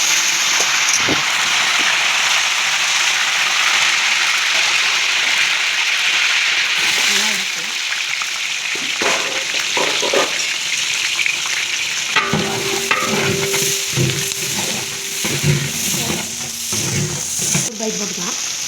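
Curry leaves tossed into hot tamarind curry crackle and sizzle loudly, with a steady frying hiss, then stirring and clinking of a utensil against the pot while a person talks.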